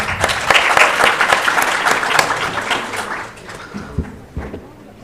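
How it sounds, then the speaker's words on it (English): Applause from an audience at an Arab innovation forum on sustainable development goals, with dense clapping that thins into a few scattered claps and taps as it winds down. "I would ask you to join me for a round of applause for Dr. Maha Halalshe."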